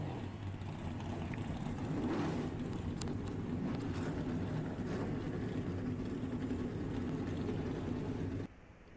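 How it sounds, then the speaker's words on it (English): A full field of V8 stock cars idles and rumbles together at the start of a NASCAR Racing 2003 oval race at Denver, a dense, steady engine drone filling the whole scene before cutting off abruptly near the end. "42 engines are alive and underway as we are getting set here for the second race at the Denver Oval"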